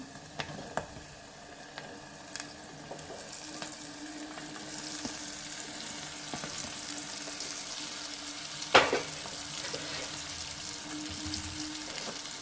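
Onions and okra fry in oil for a curry with a constant close hiss and crackle. Occasional light clicks and taps of stirring break through, including one sharper clink near the end. No voices.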